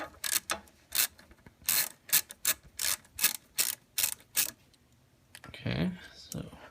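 10mm socket ratchet twisting back and forth to remove the alternator-to-battery power cable on a 2003-2004 Ford Mustang SVT Cobra: a run of sharp, close clicking bursts in an irregular rhythm, then a brief voice near the end.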